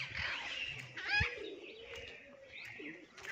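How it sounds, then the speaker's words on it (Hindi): Pigeons or doves coo while small birds chirp and tweet around a village temple, a steady soft chorus of overlapping calls with a brief louder burst, faint and continuous throughout. "हमेशा पक्षी से साथ रहते हैं।"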